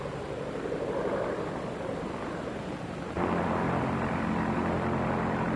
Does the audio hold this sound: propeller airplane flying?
yes